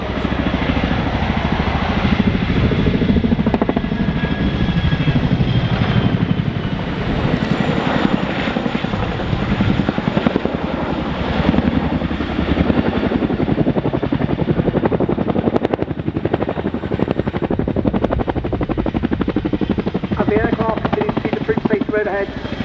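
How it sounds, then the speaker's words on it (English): A large twin-rotor Chinook helicopter roars steadily overhead at Farnborough Airshow 2024, its heavy rotor thump and engine drone filling the air without a break. "they primarily work with support helicopters, including the Chinook, still going strong."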